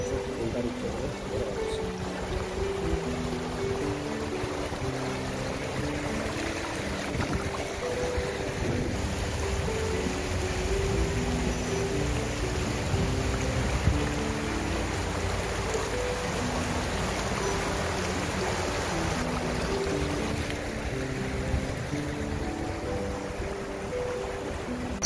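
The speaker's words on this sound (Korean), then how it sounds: "정말 물소리는 청량하고 맑은 물소리가 아름답네요" Clear water of the Cheonggyecheon stream flows through central Seoul in spring as a steady, continuous rushing wash. Soft background music plays beneath it.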